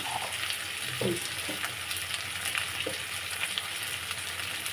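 Crab and potato pieces with cumin, coriander and chili fry in a pan with a steady crackling sizzle, broken by a few soft scrapes as the mixture is stirred.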